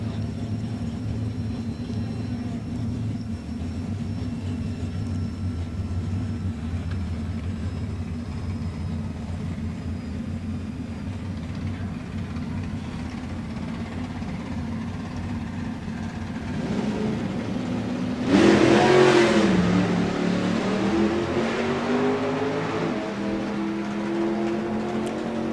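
Drag racing cars launch side by side at a strip, a sudden loud burst of engine roar rising out of a low, steady rumble and then settling back into a distant drone.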